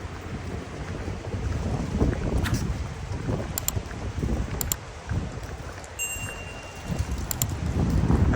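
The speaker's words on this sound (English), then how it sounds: "it's a little windy" Steady wind gusts buffet the microphone outdoors at a residential pool home by Lake Havasu, a rough, low rumbling roar that swells and dips throughout with no voices.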